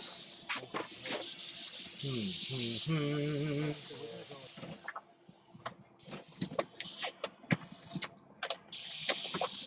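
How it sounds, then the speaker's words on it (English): An airbrush hisses in bursts as it sprays paint onto a T-shirt, the steady airy hiss broken by short gaps, with some background noise and light handling sounds. "Fiddle with my airbrush."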